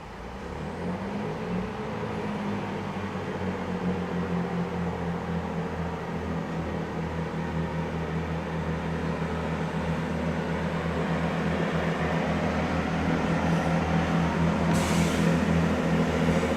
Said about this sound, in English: Departing there is the service to Henley-on-Thames.